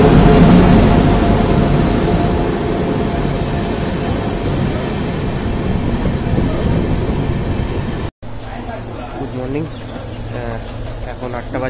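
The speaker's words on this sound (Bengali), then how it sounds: "মোটামুটি 1:05 পদাতিক এক্সপ্রেস, সেই ট্রেন ধরেই যাবো NGP" The Padatik Express train runs on rails, a loud, continuous rumble and clatter heard close by for about eight seconds before it cuts off abruptly, followed by quieter ambient noise.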